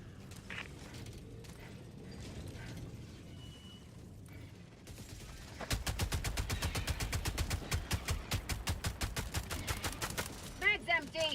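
Rapid automatic gunfire in the shooter game Helldivers 2, a long loud sustained burst of evenly spaced shots following a quieter stretch of ambient game noise, ending with a few mechanical clicks.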